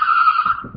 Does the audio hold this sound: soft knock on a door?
no